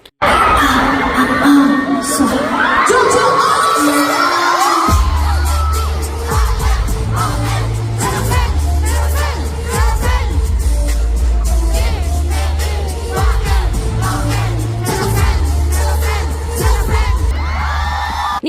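A large crowd of fans at a fan meeting in Japan cheers, screams and shouts loudly and continuously, with a heavy thumping beat underneath and voices mixed into the roar.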